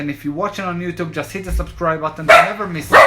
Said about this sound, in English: And that's my dog right here.